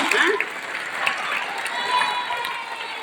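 A school audience at a Kamaraj birthday celebration claps in a scattered burst while a speaker's voice carries over it, the applause fairly soft and brief.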